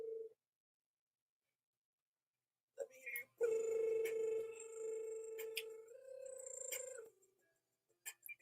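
A human voice imitates a cat's purr by rolling the tongue, making a sustained buzzing trill for several seconds after a moment of silence, with brief vocal sounds around it.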